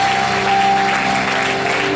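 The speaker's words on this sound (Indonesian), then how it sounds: "Tepuk tangannya kencang buat kita." Loud, steady applause from a church youth congregation for the speakers, dense and continuous with a sustained musical tone underneath.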